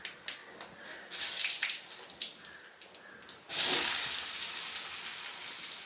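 Mustard seeds crackle and splutter in hot oil while egg curry is being made, a dense close sizzle that turns louder and steadier halfway through after lighter scattered pops.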